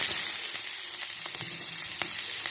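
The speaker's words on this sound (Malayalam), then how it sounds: "കടുക് പൊട്ടിയതിനു ശേഷം ഈ മിക്സാക്കി വെച്ചിരിക്കുന്ന കൂട്ടെടുത്തിട്ട് അതിലേക്ക് ഇട്ടു." Raw banana mixture sizzles and crackles steadily in hot oil with popped mustard seeds, a bright continuous hiss broken by small pops and stirring clatter, close up and without talk.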